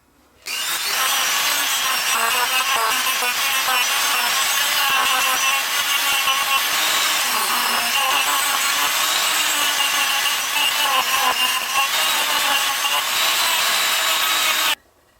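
Band saw cutting the back edge of a wooden scoop, a loud, steady, continuous rasping whine that runs unbroken for about fourteen seconds before stopping abruptly.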